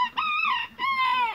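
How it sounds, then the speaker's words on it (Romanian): Young bantam roosters, April-hatched cockerels, attempt to crow in two short, strained bursts close by, with a backyard flock of chickens around them. "Puicuții, cocoșeii din april de pitică de la cloșcă au început deja să cânte"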